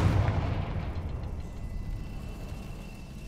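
A Confringo explosive spell blast in the video game Hogwarts Legacy: one heavy, booming burst that rolls off into a fading low rumble, with no voices.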